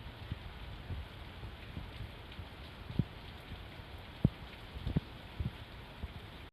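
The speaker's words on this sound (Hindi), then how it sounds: "मैंने ना अपने खिड़की से एक क्लिप रिकॉर्ड किया आपके लिए बारिश वाली" Heavy rain seen from a window pours steadily as a dense, even hiss, with scattered sharper drops and taps standing out close by and no voices.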